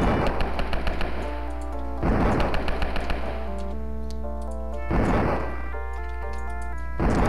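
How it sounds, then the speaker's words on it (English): A double-barreled shotgun in the video game HalloWolf fires in loud, rattling bursts about every two to three seconds, each blast cutting through a steady synth music bed that carries on between shots. "keep the double-barreled shotgun"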